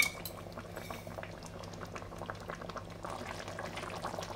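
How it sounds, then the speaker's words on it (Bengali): Curry gravy with yogurt and a pinch of sugar bubbling steadily in a pot on the stove, a dense, continuous boil with small popping bursts throughout, close and fairly loud, no voices. "এটা বেশ ফুটছে"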